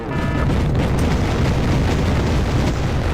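A missile strike explodes in the Wargame AirLand Battle strategy game, a dense sustained rumbling boom that fills the whole short stretch at high level, with no voices over it.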